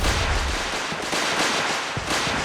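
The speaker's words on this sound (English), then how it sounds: "Who's shooting?" Gunfire in Fallout 4, a dense crackle of shots with sharp reports layered over a noisy battle backdrop, moderately loud and continuous.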